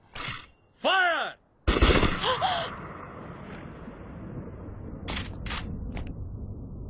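Gunfire sounds in a Hindi-dubbed Japanese anime film, with a loud blast and reverberant decay, a few shorter sharp cracks following, and dramatic whooshing effects before it.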